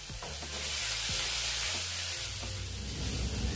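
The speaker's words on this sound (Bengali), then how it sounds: "বেগুনগুলো খুব ভালোভাবে ভাজা হয়ে গেছে, এবারে ওতে দিয়ে দেব সেদ্ধ করে রাখা শাক" Fried eggplant sizzles loudly in a pan as drained boiled leafy greens go in, a steady hiss of hot oil with a few stirring scrapes, close and alone without any voices.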